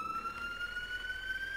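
An FDNY EMS ambulance siren in the EmergeNYC video game, a faint, steady high wail that rises slowly in pitch over under two seconds, with low vehicle rumble underneath.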